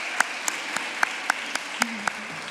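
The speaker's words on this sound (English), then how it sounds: "the opportunity to applaud the faculty and staff who work tirelessly" Scattered, sparse clapping from a small number of people at an Emory University Doctor of Physical Therapy commencement ceremony, distinct individual claps at a steady pace over a quiet room.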